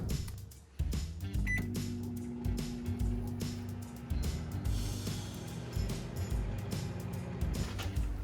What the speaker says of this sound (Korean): 전자레인지를 돌려주세요.